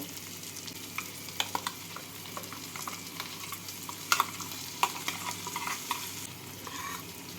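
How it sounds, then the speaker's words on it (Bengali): Potatoes and bitter gourd stirred with poppy seed paste in a frying pan: a steady soft sizzle with scattered scraping clicks of a spatula against the pan, close and fairly quiet, no voices. "এবার আলু আর উচ্ছের সাথে নাড়াচাড়া করে নেবো নাড়াচাড়া করে নিলাম এবার এর মধ্যে বেটে রাখা পোস্ত দিয়ে দেব"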